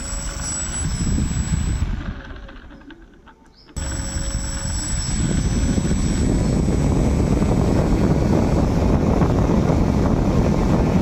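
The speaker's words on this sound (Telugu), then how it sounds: "ఇది హై స్పీడ్, ఇది BLDC మోటార్, మనం డ్రోన్ వాడేది" A high-speed BLDC drone motor spinning a propeller on a small homemade fan, whirring steadily and loud, briefly dropping off then surging back to a constant roar.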